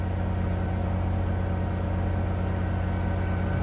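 A 2008 Dodge Sprinter engine idles steadily through a diesel particulate filter regeneration, giving a constant, loud low rumble with an even drone and no change in speed.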